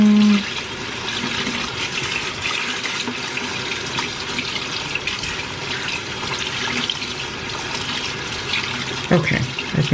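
Tap water runs steadily into a sink during rinsing at a bathroom or kitchen counter, a constant close splashing hiss, with a brief clatter of handling toward the end.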